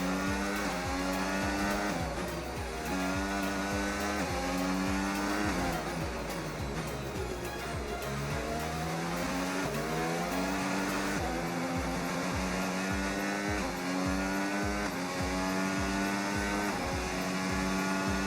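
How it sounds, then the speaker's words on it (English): Formula 1 race cars in the F1 25 video game scream at high revs, with rising and falling gear-change sweeps and overlapping engines from several cars held loud and steady throughout, with no voices. "With Albon taking the defensive line and us diving once again, we got through onto P6."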